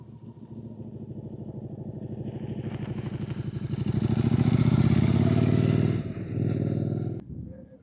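A Suzuki SV650 motorcycle with an aftermarket exhaust rumbles close by with a throbbing idle that swells into a louder, deeper rev, then drops back and briefly surges again before cutting off.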